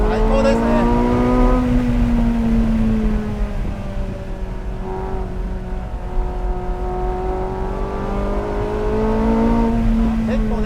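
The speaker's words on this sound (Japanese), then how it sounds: "それにしてもこの V8 エンジンのサウンド最高ですね。" A Porsche 918 Spyder's V8 engine revs and accelerates on the road, its deep rising and falling drone loud and close, with talking over it.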